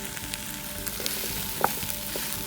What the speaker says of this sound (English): we're gonna add in our mushrooms. And we're gonna saute them